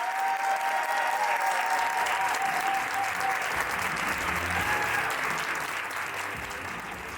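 A live podcast audience in Madrid applauding, a loud sustained burst of many hands clapping with a few faint cheers and voices mixed in, steady throughout and easing slightly toward the end.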